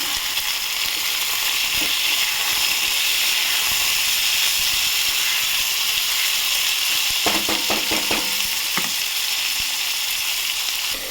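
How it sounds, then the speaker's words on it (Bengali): Potatoes sizzle loudly with onions in a hot pan in a steady, hissing fry. A short run of rapid scraping stirs comes near the end. "আলুটাও পেঁয়াজের সাথে ভেজে নেব।"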